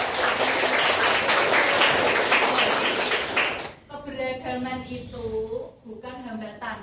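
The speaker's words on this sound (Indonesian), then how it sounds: "Beri tepuk tangan dulu toh" Students in a classroom clap together, a loud, dense burst of applause for a few seconds that stops abruptly, followed by a teacher's voice speaking.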